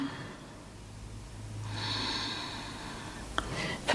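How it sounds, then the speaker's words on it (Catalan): Deep breathing during a morning yoga routine: a slow, close, audible inhale swells and fades, followed by a faint catch and a short breath near the end, with no talking. "Sent la respiració."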